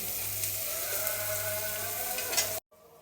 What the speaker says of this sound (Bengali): এগুলো একটু ভেজে নেব